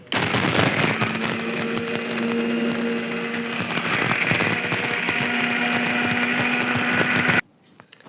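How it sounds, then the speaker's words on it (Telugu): A kitchen mixer grinder whirs steadily and loudly for about seven seconds while grinding spice powder, with a rattling, gritty roar and a faint motor hum, then stops abruptly. "మిక్సీ అయితే పట్టుకుందాం."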